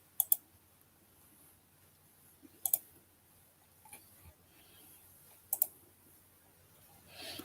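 Soft clicks and brief keyboard taps while logging into a website, occurring in a few short, spaced clusters against a quiet background.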